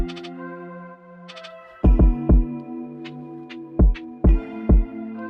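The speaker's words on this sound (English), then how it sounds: "So that flute sample sounds like this." A synth flute sample with an auto panner, Super VHS tape effect and heavy reverb plays soft sustained tones with a few short pitched plucks, alone and with no voice.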